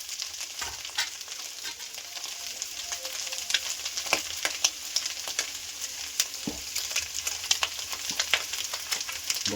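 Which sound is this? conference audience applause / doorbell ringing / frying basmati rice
frying basmati rice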